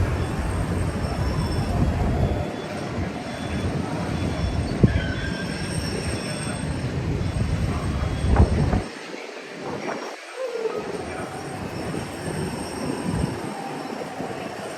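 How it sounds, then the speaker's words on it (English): Disneyland monorail train rumbling past at close range, a loud sustained roar with squealing wheels that fades and surges, ending in a lower rolling hum, no voices. "Waiting for that monorail."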